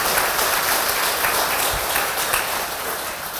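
Church congregation applauding during a Spanish-language sermon, a dense, steady roar of clapping from a large crowd with no pauses across the whole stretch.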